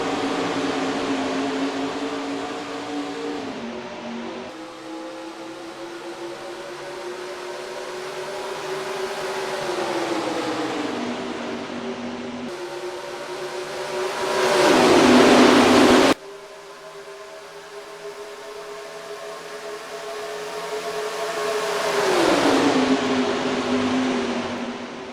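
Stock car engines roar together in the NASCAR Racing 2003 game, a loud sustained drone that swells and pitches up and down as the pack accelerates, with one brief louder burst midway.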